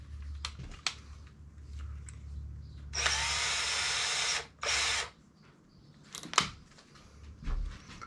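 Power drill boring into wood to mount kayak foot pegs, two close whirring bursts of a second and a half and half a second, surrounded by quiet handling clicks and knocks.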